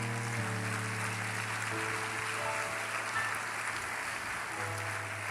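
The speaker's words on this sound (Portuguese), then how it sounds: "Pode aplaudir." A church congregation applauds steadily in a large hall, a dense even wash of clapping under a sustained organ or keyboard chord throughout.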